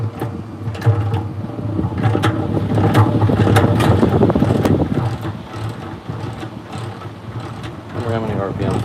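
A honey extractor spins during live honey extraction, a continuous whirring, rattling mechanical drone with a rhythmic churn, close and fairly loud, running for about nine seconds under people talking.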